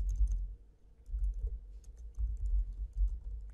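Fingers type on a computer keyboard in quick irregular bursts of soft clicks, close and fairly quiet, with short pauses between runs of keystrokes.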